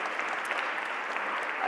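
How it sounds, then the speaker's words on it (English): Applause from a ministerial summit audience, a brief burst of dense, even clapping heard at a moderate distance and fairly quiet, without voices. "A round of applause,"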